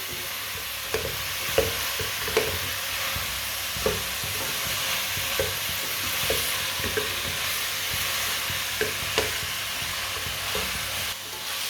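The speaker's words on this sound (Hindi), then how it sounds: "लाजमी गोभी को थोड़ा सा भून लेना, पका लेना इसे 2-3 मिनट के लिए ना।" Cauliflower fries in a hot pan with a steady sizzle, while a spoon stirs it and scrapes at regular intervals, the clinks standing out above the frying.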